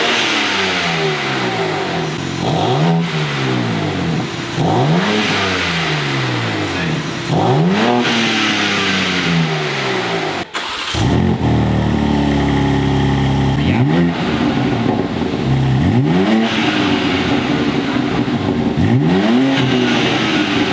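A BMW G8X M3/M4 with a newly installed downpipe and exhaust revs repeatedly, loud and close, with rising and falling throttle blips spaced a few seconds apart, then a longer held rev and more blips.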